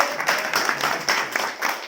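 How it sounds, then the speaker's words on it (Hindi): Classroom audience, mostly children, clapping after a story is told, a brief burst of fairly dense, moderately loud applause with uneven claps throughout. "एक बार ताली बजाएंगे।"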